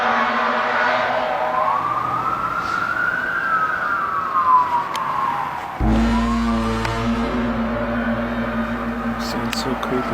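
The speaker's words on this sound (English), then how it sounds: "emergency vehicles all seem to be hurrying to the same place" A wailing siren rises and falls, then another siren pattern takes over with a low rumble, loud and fairly close, with faint background voices.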